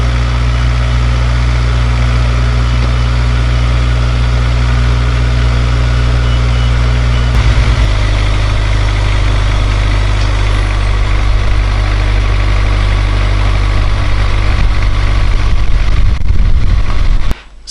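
A car engine idles steadily and loudly up close right after being jump-started from a flat battery with an Annke CP-02A jump starter pack, its low hum shifting pitch slightly partway through before cutting off at the end.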